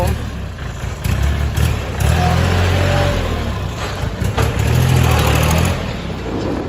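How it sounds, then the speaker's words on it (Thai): A Kubota L3608 tractor's diesel engine idles steadily with a low rumbling chug, staying fairly loud and close throughout, with slight rises in intensity. "เรามาดู การขับเคลื่อนแล้วฟังเสียงของเครื่องยนต์กันครับ"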